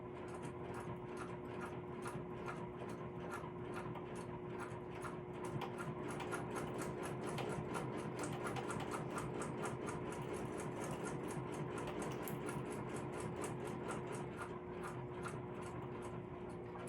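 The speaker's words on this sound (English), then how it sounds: "sewing machine, so we're just going to sew along this line." A sewing machine stitches a curved seam on a crossbody bag, whirring in fast, even bursts that run on close and steady for the whole stretch.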